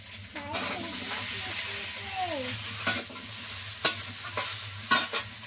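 Prawns, crabs and vegetables such as potato and Malabar spinach sizzle and fry in a curry pan, with steady hiss and occasional stirring clatter close by.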